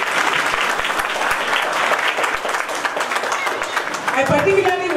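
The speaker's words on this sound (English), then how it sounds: "Give them a big round of applause," Big round of applause from a school audience at a children's rhyme and poetry event, dense steady clapping throughout, loud and close, with a louder surge near the end.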